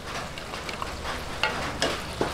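Shrimp frying in a pan with browned chicken and liver, a steady low sizzle with a few sharper crackles and stirring clatters, close up and alone.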